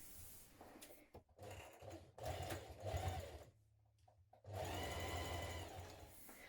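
A home sewing machine basting a pinned pocket onto a backpack panel, stitching in quiet close runs with short pauses in between, then a steadier continuous stretch of whirring.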